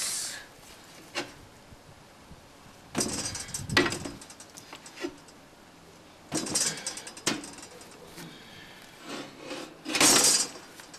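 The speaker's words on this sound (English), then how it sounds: "And then I'll file inside and take those sharp edges as well." A hand file scrapes the sharp edges inside drilled holes, in short, separate rasping strokes that come in bursts with quiet gaps between them.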